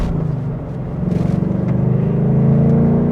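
Ford Mustang Mach 1 V8 engine and exhaust heard from inside the car, a deep throbbing rumble that swells as it revs up and holds a strong, steady drone.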